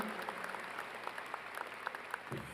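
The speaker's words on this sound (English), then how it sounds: "Come on, folks, guests, graduates, give her a round of applause." A graduation-ceremony audience applauds steadily for a retiring staff member, with dense overlapping handclaps carrying on for the whole stretch, fairly faint and distant, with no voices over it.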